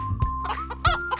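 A farmyard hen gives two short, close clucks, one early and one just after the midpoint, with a faint steady hum between them and no other sounds.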